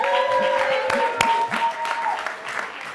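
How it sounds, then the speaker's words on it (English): Audience applause at a synagogue's Latke-Hamentaschen debate, a steady wash of clapping from a seated crowd, fairly loud and continuous, with a faint tonal whine running beneath it. "I'd like to hear applause to this one"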